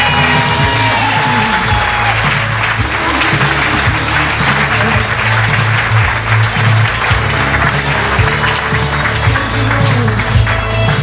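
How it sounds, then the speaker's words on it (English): A wedding reception crowd claps and cheers loudly and continuously for the best man's grand entrance, with whoops rising over steady applause throughout. "Make some noise for our best man, David Hyde."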